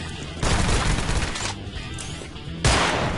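Gunfire in the online shooter GunZ 2: The Second Duel, loud bursts of rapid shots that stop and start again, with a sharp new volley near the end.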